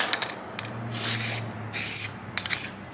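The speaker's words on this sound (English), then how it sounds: "we're gonna be using guide coat again" Aerosol guide coat sprayed from a can onto a car body panel being worked at home, heard as three separate hissing bursts of about a second each, close and fairly loud, with a low hum underneath.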